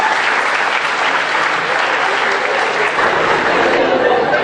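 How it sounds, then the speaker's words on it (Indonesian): A large audience at a high school exam motivation training session applauds loudly and steadily, a dense wash of clapping that fills the whole stretch. "Oke, tepuk tangan dulu, tekan nggak?"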